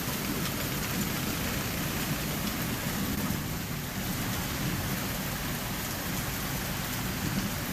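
Hail and heavy rain pound down during a Colorado storm, a dense, unbroken roar of impacts that stays loud and steady throughout with no voices.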